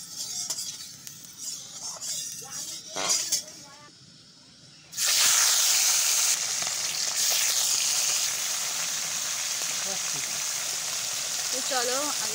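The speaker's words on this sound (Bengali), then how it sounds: "কড়াইতে তেল দিয়ে দিয়েছি, এবার ভেজে নেব।" Fish frying in hot oil in a wok: a loud, steady broadband sizzle bursts in suddenly and keeps going, preceded by a quieter stretch of kitchen clatter and a voice speaking.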